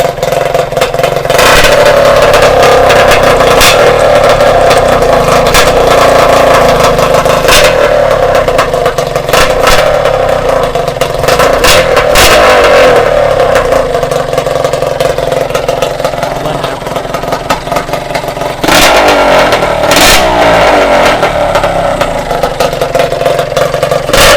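A drag racing motorcycle with a straight gun-barrel exhaust fires up and revs hard, very loud and close, its harsh rasping roar swelling in repeated throttle blips over a rough idle for the whole stretch.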